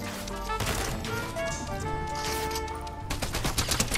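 Rapid bursts of gunfire crackle in a Fortnite match, a dense volley of shots with sharp impacts, fairly close, swelling into harder cracks near the end over a tonal game backdrop.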